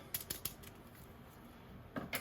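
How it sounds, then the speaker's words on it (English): A few quick, crisp scissor snips cutting open packets near the mic, three in a row, a pause, then two more, over a quiet room hiss. "we're just going to open these up with some scissors."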